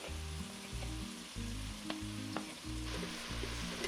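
A sliced Vidalia onion and browned, drained meat sizzle together in a cast iron Dutch oven for shipwreck stew, a steady close frying hiss with faint scraping and light clinks of stirring, no talking.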